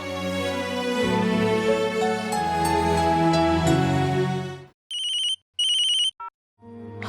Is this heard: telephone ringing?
yes